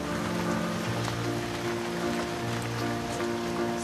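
Steady rain falling at sea over a lagoon off Mayotte near a fishing boat, a dense continuous hiss of drops hitting water and surfaces with a low engine-like hum underneath, loud and close throughout.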